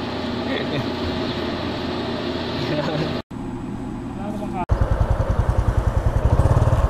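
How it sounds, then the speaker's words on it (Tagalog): Honda RS 125 FI motorcycle engine running steadily, briefly cut off twice, then revving in a quick pulsing rhythm that grows louder toward the end, close by. "Drive test Honda RS 125 Fi. Unang ano ko pa lang, rev ko pa lang, ganda ng makina."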